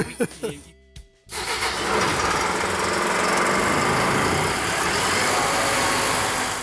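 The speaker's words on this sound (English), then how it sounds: "And now you're just gonna engage the starter and start the unit." An engine on restoration equipment, apparently part of a wet blast system, is cranked by its starter and fires up, then runs loud and steady close by with a rough, knocking idle after a brief silence. Voices speak during the start.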